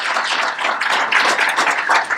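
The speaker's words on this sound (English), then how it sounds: "So this table really deserves a big round of applause" A roomful of people clapping for a team at a networking event, a short burst of dense, steady applause close by, with no talk over it.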